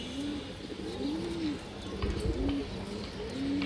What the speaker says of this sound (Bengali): অনেক সুন্দর একটা মাদি কৌতার